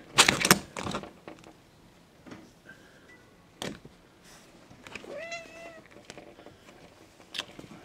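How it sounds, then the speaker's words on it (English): A cat meows at a goldfinch, with a couple of short, clear meows among scattered clicks and taps, close by and moderately loud with quiet gaps between. "That cat can't get me."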